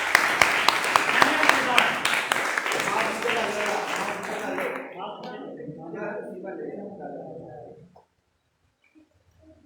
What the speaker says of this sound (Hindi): तो उनके लिए भरपूर तालियां